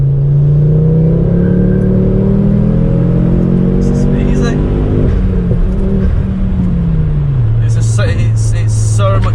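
A Ford Focus ST engine revs hard under acceleration, a loud steady drone rising in pitch before dropping at a gear change, with road and wind noise throughout.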